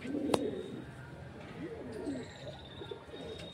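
A Madrasi pigeon in a loft gives soft, low coos in a few short phrases, fairly close, with a sharp knock at the start and faint chirps behind.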